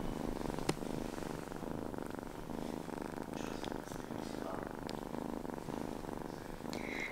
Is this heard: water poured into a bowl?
no